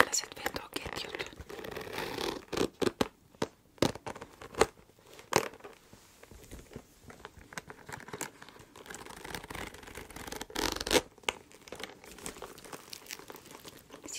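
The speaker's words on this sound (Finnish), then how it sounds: "Ja sit mulkas tässä on sivussakin tällaiset vetoketjut." Zippers on the side pockets of a handbag being handled, giving intermittent crinkly zipping and rustling bursts at close range with soft whispering in between.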